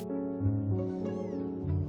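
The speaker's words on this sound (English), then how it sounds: "Yes, I understand about the cat." A cat meows in the video game Before Your Eyes, one drawn-out, wavering cry heard fairly close and clear, with no talking over it.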